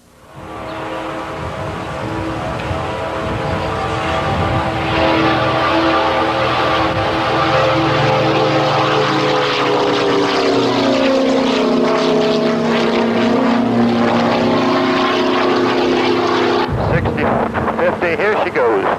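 The engine of a Prowler propeller aircraft is heard close by. Its droning roar builds up, holds loud and steady, then dips and picks up again near the end, with voices talking over it.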